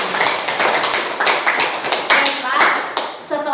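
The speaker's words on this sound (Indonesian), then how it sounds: "Tepuk tangan untuk" A classroom of students clapping together at the teacher's prompt after presentations, a short burst of lively, uneven hand claps with some chatter mixed in.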